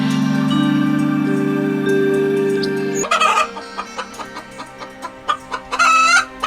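A sick chicken clucks in short, repeated bursts after a steady droning tone, fairly close and moderately loud, in a Bengali cartoon.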